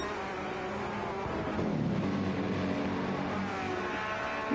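Race cars engines roaring steadily through the second chicane at Monza during an Italy 180 race, a continuous loud mechanical drone with rising and falling revs, no voices.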